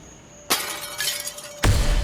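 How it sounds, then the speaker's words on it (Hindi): Glass shatters inside a room in a crime drama scene, a sharp crash followed by scattering tinkles, then a second loud burst of breaking glass with a heavy low thud. "कांच टूटने की आवाज"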